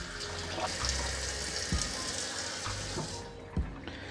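Warm tap water runs steadily into a sink while the headband of Philips SHP9500 headphones is washed. The flow is constant and close, with a few soft knocks and splashes as the band is handled.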